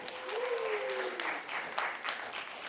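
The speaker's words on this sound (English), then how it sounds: "Let's give her another round of applause." An audience at a Grade 4 speaking contest final applauds a student. Fairly quiet, steady clapping continues throughout, with a brief high voice or squeal near the start.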